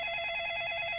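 A telephone rings indoors with a continuous electronic trill, loud and close, filling the whole moment without any voices over it.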